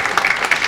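Audience at a labour-law panel discussion clapping, a short burst of dense, steady applause from a modest crowd, close and fairly loud.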